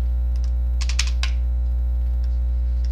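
A computer mouse clicks repeatedly while trimming pieces in a program: a quick cluster of sharp, close clicks followed by a few lighter ones over a steady low electrical hum.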